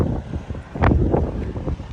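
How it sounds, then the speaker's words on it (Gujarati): Strong wind buffets the microphone outdoors at a petrol pump, a constant loud rumbling roar with gusts swelling and easing over two seconds, no voices heard. "બહાર પવન બહુ છે."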